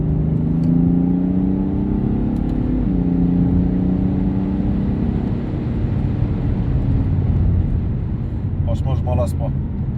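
A BMW 435d xDrive diesel engine in Estoril Blue drones loudly from inside the car while driving, its pitch rising steadily, dipping and climbing again as someone talks over it.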